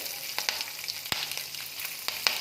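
Green chilli crackling in hot oil for capsicum rice, a steady close sizzle with sharp pops and a few stirring scrapes, no voices.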